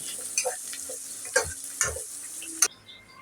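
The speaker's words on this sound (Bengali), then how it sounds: "আর পেঁয়াজটা লাল করে ভেজে নেব পাঁচটা কাঁচামরিচ দিয়ে দিব পেঁয়াজটা লাল হলে আদা রসুন বাটা দিয়ে দিব" Onions fry with green chillies and ginger-garlic paste in a pan for chicken pulao, a close, quiet sizzle punctuated by several distinct scraping stirs and clacks of a spatula, then a sudden drop to near quiet.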